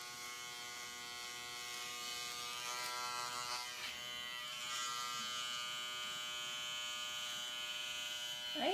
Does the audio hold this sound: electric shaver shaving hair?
yes